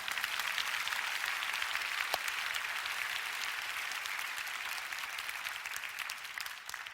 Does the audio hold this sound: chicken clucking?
no